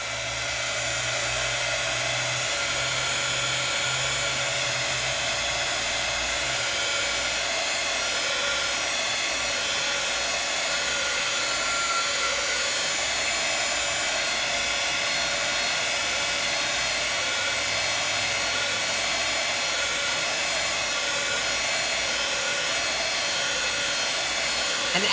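A heat tool blows a steady, loud, continuous hot-air roar without pause while drying watercolor paint on washi paper, the whooshing hum close and unchanging throughout with no talking.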